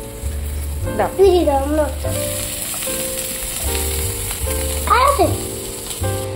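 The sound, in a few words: onions frying in a pan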